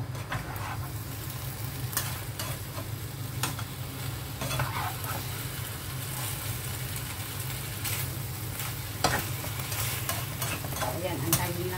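Vegetables stir-frying in a pan with chicken broth added, a steady bubbling sizzle with frequent scraping and clinking of a utensil stirring against the pan, continuous and close.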